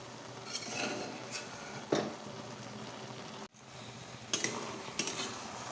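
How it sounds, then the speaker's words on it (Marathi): Khoa being stirred into cooking carrots for carrot halwa, with a soft simmering hiss under repeated scraping and clanking of a spoon against the pot, and one brief cut-off midway. "हा खवा टाकत आहे आणि तो व्यवस्थित हलवून घ्यायचा"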